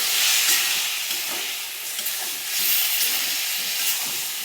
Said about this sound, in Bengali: জলটা দিয়ে আরও একটু কষাবো